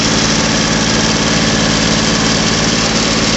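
A John Deere 5055E turbo tractor engine running steadily at high revs, powering a thresher, loud constant diesel drone with vibration and no pauses.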